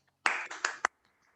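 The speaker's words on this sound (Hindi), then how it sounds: "सारे बच्चे तालियां बजा दें" A few students clap over unmuted speakers during an online class, four quick, slightly compressed bursts of clapping in an uneven cluster, then near silence with faint traces after.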